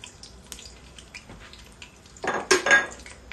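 Whole spices crackling and sizzling in hot oil while cooking a bhuna of meat with potatoes, a short burst of loud frying noise after quieter kitchen clatter and utensil clinks.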